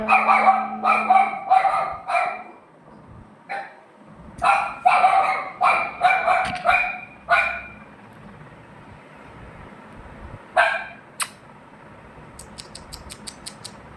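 A dog barks repeatedly around a home, loud and close, in clusters of sharp barks with short pauses, then fainter yips near the end.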